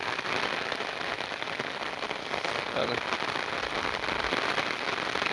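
Steady, dense rain pours down on a farm where buffaloes graze, a close, unbroken hiss of drops on surfaces throughout, with no talking.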